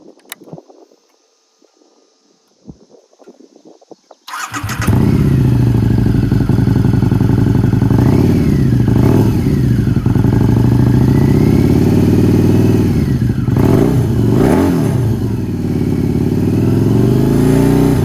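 A 2006 Harley-Davidson VRSCA V-Rod with a motor trike rear-end conversion fires up after a quiet moment, then idles loud and close with several throttle blips rising and falling, no talk.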